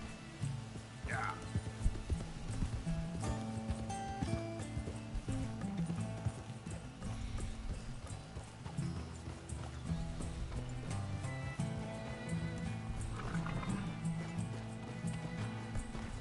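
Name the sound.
horse hooves galloping, from a video game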